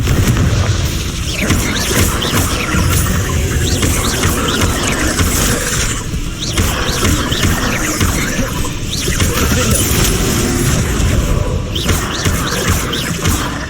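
Repeated booming fire-blast spell explosions from the Confringo curse in Hogwarts Legacy, loud and dense with crackling bursts and thuds, arriving in quick succession amid continuous combat noise.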